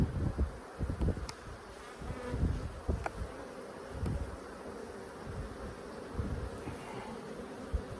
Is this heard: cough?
no